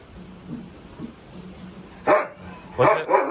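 A roughly ten-year-old dog barks in a few sharp, close bursts near the end, after a quiet stretch with low murmuring in the background.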